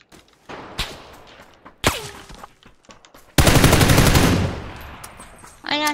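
Rapid automatic gunfire in a video game, aimed at a plane, erupts as a loud sustained burst after a few isolated shots, then tails off.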